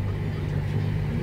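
A John Deere 8335R tractor pulling a Brillion 11-shank chisel plow, running just below full throttle, gives a steady, close, low engine drone with no break in its rumble.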